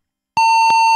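A DOS computer beeps from a running batch file: after silence, a sharp electronic tone starts with a click and holds steady, loud and alone, with a second click partway through.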